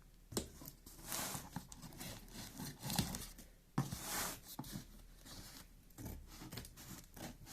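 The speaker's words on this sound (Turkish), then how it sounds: "Şimdi koli bandımızın şurasından makas yardımıyla yırtıyorum." Packing tape is torn with scissors in a quiet room, giving soft rasping, ripping and snipping scrapes in irregular bursts, faint and close, with no talking.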